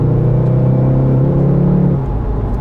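A 2019 VW Golf R Mk7.5 engine pulling hard from 90 km/h, a steady loud droning rumble from inside the cabin with a rising tone that drops away near the end.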